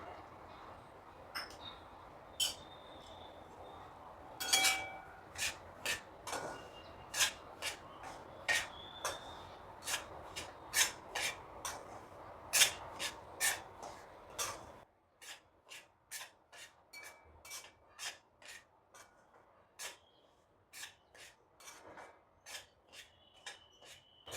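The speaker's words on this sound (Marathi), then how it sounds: "तूप गरम झालं की मीडियम फ्लेमवर दोन वाटी रवा घालूया आणि तो भाजून घेऊया" Semolina roasting in ghee over a medium flame for rava besan ladoo, with a spoon or spatula scraping the pan in a quick, irregular series of dry rasping strokes, fairly faint and close.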